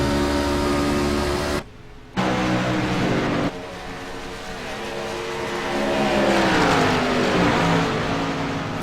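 Race cars at Talladega winding back up to speed, a dense engine roar with a short cut of near quiet, then a rising, swelling pack of accelerating motors.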